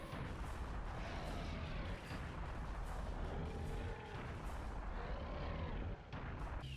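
A giant UFO opens fire overhead in the shooter Serious Sam: The First Encounter, producing a dense, continuous roar of heavy booming blasts that stays loud and steady throughout with no pauses and no voices.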